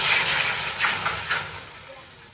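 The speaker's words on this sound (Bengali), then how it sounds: "গ্যাস কড়াই গরম দুধটা দিয়ে দিলাম" Milk hits a hot karahi on a gas stove with a bursting hiss that settles into a steady sizzle, with a few swelling waves of bubbling over about two seconds.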